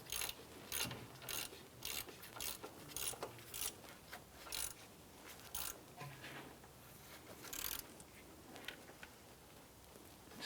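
Ratchet clicking in quick bursts while tightening an upper pivot bolt on a 2001-2005 Honda Civic engine, a series of close, rapid pawl ticks separated by brief pauses.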